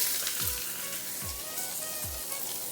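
Garlic and onion frying in a pan for Bengali potol bharta in a village kitchen, a continuous soft sizzle with three low thumps spaced evenly across it, no voices.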